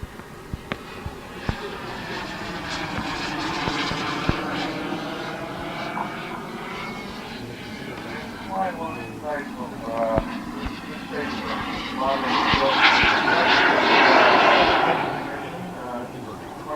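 A radio control model jet airplane flies at an airfield fun fly, its engine roaring and whining as it passes overhead, growing louder toward the end, with people talking throughout.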